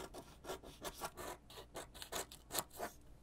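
Card for a homemade Ollivander's wand box is cut in a quick series of short, rhythmic rasping strokes, close and quiet, with no talking.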